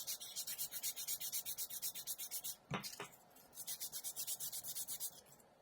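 Sandpaper is rubbed over a painted quarter-scale Hulk sculpture kit in quick, even back-and-forth strokes. The strokes pause briefly for a couple of soft knocks, then resume, close and quiet.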